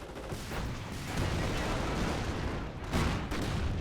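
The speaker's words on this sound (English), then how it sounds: "Nice grenade, but the KCH are not that close to the explosion" Rumbling, dull explosion and battlefield gunfire in the Company of Heroes strategy game, a steady low roar with a heavier burst near the end.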